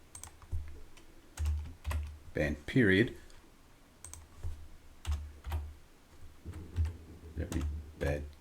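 Quick clattering keystrokes on a computer keyboard come in bursts, with someone talking over the typing.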